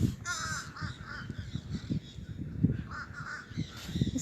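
Green parrots outdoors in Gulfport, Florida give harsh, raspy squawks, repeated in quick succession at a moderate distance against quiet background noise.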